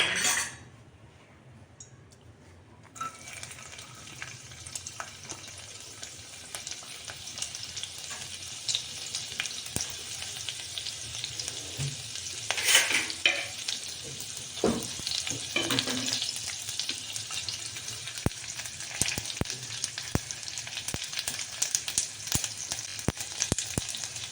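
Dried red chilli and fenugreek leaves hit very hot oil in a kadhai, a steady, close sizzle that swells after a quiet opening, with occasional clinks of a utensil against the pan.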